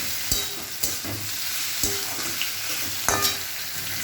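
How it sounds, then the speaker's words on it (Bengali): Loitta (Bombay duck) fish going into hot oil with turmeric in a pan, frying with a steady sizzle while a spoon stirs, giving several sharp scraping knocks spaced about a second apart, no talk. "এই যে লোটে মাছটা আমি ছেড়ে দিচ্ছি, দিয়ে ভালো লোটে মাছটা একটু ভালো করে নাড়বো"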